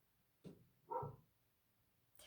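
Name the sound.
dog barking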